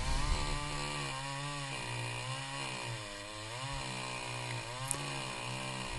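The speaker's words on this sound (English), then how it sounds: "It's a little Husqvarna, and it cuts through oak pretty good" A small Husqvarna T435 chainsaw cuts through oak, its engine droning loud and steady with rising and falling pitch as the chain bites into the wood, continuous for the whole stretch with no talking.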